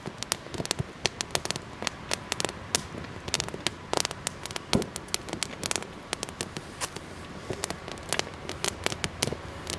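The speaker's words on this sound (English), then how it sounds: "Fire's going there pretty good right now." Campfire crackles and pops busily with dense, irregular sharp snaps at a hammock camp in cold weather, while Spam fries and water boils over it.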